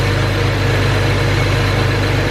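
A BMW N54 engine idles steadily during warm-up with a low, even rumble and constant vibration, loud and close, with no change in pace and no talking.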